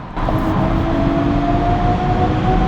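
A Kia EV6 electric car pulls hard through a tunnel, with a loud, steady in-cabin hum and a sustained synthetic tone that rises gently under the rumble, no talking.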